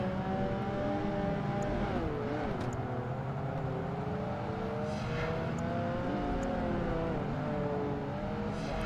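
A Porsche racing engine in Project Gotham Racing 2 drones steadily with rising and falling revs as it chases another car, a loud continuous whine with shifting pitch and no pauses.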